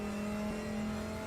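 Digitized car engine revving in the RaceRoom racing video game, a steady buzzy engine tone holding through the whole short stretch, loud and unbroken with no voices over it.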